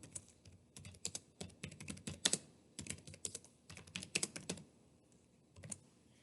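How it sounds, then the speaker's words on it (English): Rapid keystrokes on a computer keyboard while a question is entered into a Google Forms survey, irregular bursts of clicking taps with brief pauses, close and clear with no talking. "So you type your question."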